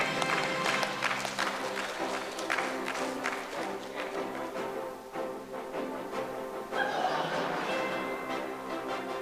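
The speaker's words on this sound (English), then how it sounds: "A round of applause." Audience applause in a conference hall at an annual accountants' flagship conference, a dense, steady wash of many hands clapping that carries on for several seconds, dipping slightly midway before swelling again.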